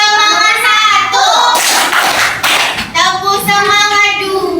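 Primary-school children clap in bursts between chanted lines of a rhythmic cheer, loud and close, the clapping bunching into a dense flurry midway while young voices sing and call out around it.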